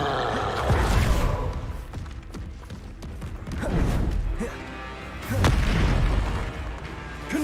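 Spell blasts in a magic video game: a string of deep booming bursts, each swelling and fading over a second or two, with one loud hit near the start and two more heavy blasts later, under faint game noise.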